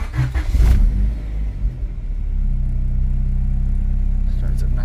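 A Honda Integra engine cranks, catches with a loud rev and then settles into a steady, even idle close by.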